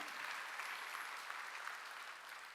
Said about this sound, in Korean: 믿으면 박수